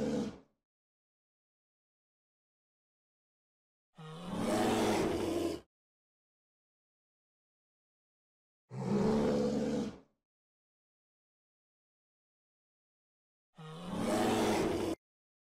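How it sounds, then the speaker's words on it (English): A bear gives three loud, deep roars, each lasting about a second and a half, separated by several seconds of silence. "Bear."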